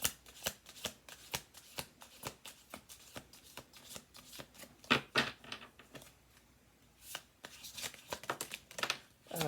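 Playing cards laid one by one on a table in a family-owned business, each a sharp papery slap or flick, about two dozen irregular close taps with short pauses, quiet room, no talk.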